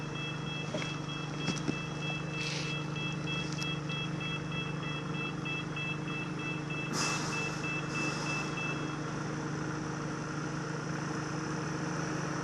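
Amazon delivery trucks pull out of a depot at Bardon, Coalville, with a low idling engine hum under a steady run of reversing beeps, moderately distant and unaccompanied by speech.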